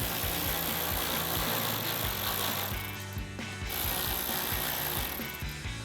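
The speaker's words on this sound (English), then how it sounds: "we're gonna grab our ratchet and 10mm socket and tighten those down" A ratchet fitted with a 10mm socket tightens headlight bolts on a 2012-2015 Toyota Tacoma, giving steady, rapid, close-up pawl clicking with short pauses between strokes and no talking.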